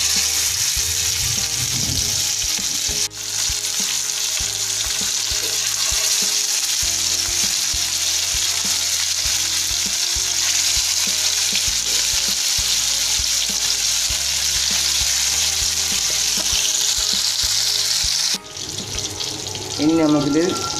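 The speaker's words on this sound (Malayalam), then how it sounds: "നമുക്ക് ലോ സിമ്മിൽ വെച്ച് മീൻ വറുത്തെടുക്കാം" Fish with curry leaves fries in a pan on low flame, a loud continuous sizzle and crackle that holds steady, briefly interrupted near the end by clattering and a voice.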